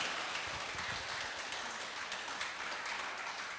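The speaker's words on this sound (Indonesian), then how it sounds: "Saya ingin minta tepuk tangan yang sangat tulus dan meriah untuk ketiga orang keren di depan kita" A crowd applauds three guests at a youth talk show on food culture and the environment, a dense, hissing wash of claps heard from a distance at low volume and holding steady throughout.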